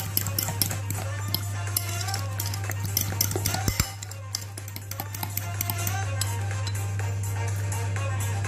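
Eggs being whisked into a spinach and ricotta quiche filling, a continuous rapid clicking and scraping of a utensil against the bowl, close and steady, over a low constant hum.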